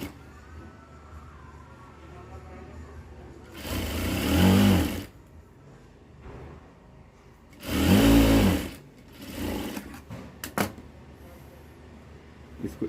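Sewing machine stitching lining onto a blouse, two loud motor bursts of about a second each separated by quiet handling, followed by a shorter burst and a few clicks.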